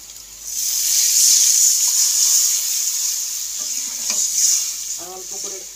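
Sauce is poured into a hot pan of fried onions for a Bengali bhola fish curry, bursting into a loud, steady, close sizzle that is stirred through, with a few clinks and brief voices near the end.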